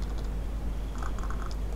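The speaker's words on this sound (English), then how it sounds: "On my keyboard, I'm going to press HH to temporarily hide it." Computer keyboard keys pressed during CAD modelling work, a quick series of light, close clicks over a steady low background hum, with no voices.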